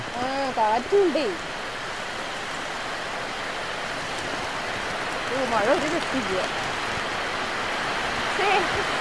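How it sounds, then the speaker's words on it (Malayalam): Steady heavy rain, blown by wind, hisses throughout as a dense broadband wash over a village farm, with birds chirping in brief bursts over it. "മഴ നല്ല മഴ."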